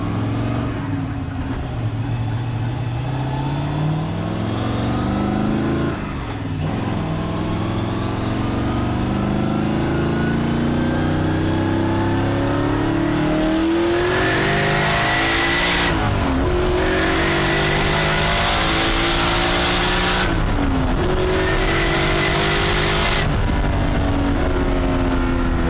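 A turbocharged LS-swapped Infiniti G35 race car accelerates at partial throttle, its engine note climbing steadily through two short lifts or shifts. The roar is loud and heard from inside the cabin, with no talk over it.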